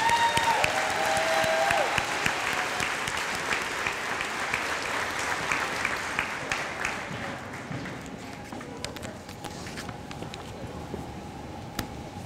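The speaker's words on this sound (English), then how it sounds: "A round of applause for Team Perspective." An audience at a middle school eighth grade recognition ceremony applauds for a student team, with sustained dense clapping and a few cheers that slowly thin out toward the end.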